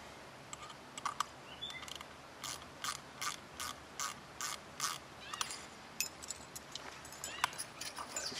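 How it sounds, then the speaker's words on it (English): A nut is tightened with a 10 mm spanner on a Strainrite spring gate kit, giving close, crisp metallic ratcheting clicks in short, regular bursts over several seconds, with no talking. "You can just tweak that up with using 10 mil spanners."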